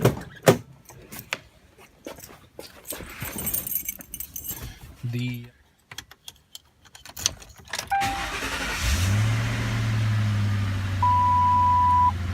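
A 1968 Mercury Montego station wagon rebuilt on a Crown Victoria frame, sitting on its springs with Watts links fitted, starts up with clunks and rattles before its engine settles into a steady idle hum, close by.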